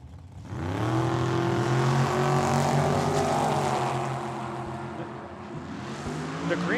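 Drag racing dragster at Tucson Dragway, a loud engine roar that swells quickly and holds a rising harmonic whine, then fades slightly as the car pulls away, with voices faintly underneath.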